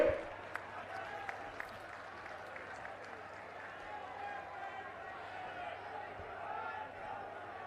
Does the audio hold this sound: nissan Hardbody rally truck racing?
no